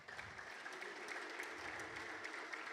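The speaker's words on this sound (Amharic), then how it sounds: "አጨብጭቡለት ለጌታ።" A church congregation claps together in praise, producing dense, continuous applause that stays steady and moderately distant for the whole short stretch.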